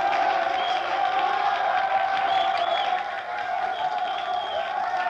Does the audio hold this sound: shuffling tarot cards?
no